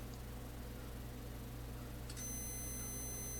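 A multimeter continuity tester beeps while testing a diode from a faulty solar string light, a sudden steady high tone that starts partway through over faint background hiss.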